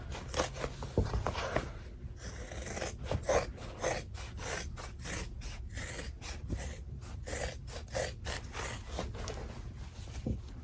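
Scissors cutting around a fabric bag, with a repeated rhythmic snipping and rasping of blades through cloth, close and fairly quiet, cut after cut in a steady series.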